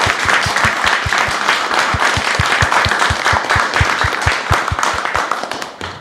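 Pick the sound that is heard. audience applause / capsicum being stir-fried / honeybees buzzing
audience applause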